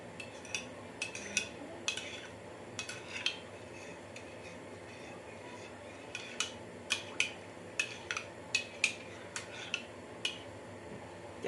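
Spoon clinking and scraping against a bowl or pot while white beans are mixed with hot water, a run of light, sharp metallic taps in irregular clusters, close and fairly quiet, with no talking.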